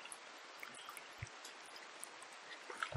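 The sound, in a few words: rain in the video game Rimworld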